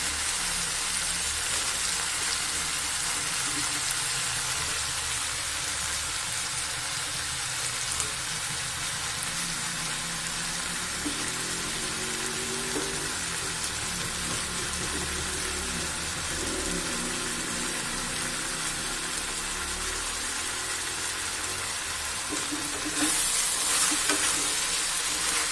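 Chopped eggplant frying with diced tomatoes in a pan for kathirikkai thokku, a continuous soft sizzle and occasional stirring scrapes over a long stretch, moderately quiet with no voices.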